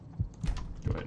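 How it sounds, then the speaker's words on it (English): In Skyrim, the vampire vision effect produces a low, muffled heartbeat, with two thumping beats pulsing close and heavy in the ear. "turn off this vampire vision because that heartbeat sound in my ear"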